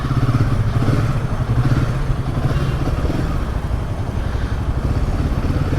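Royal Enfield Himalayan 450 motorcycle engine running on a test ride in Mizoram, a steady close mid-pitched thrum with some clatter, continuous and without speech.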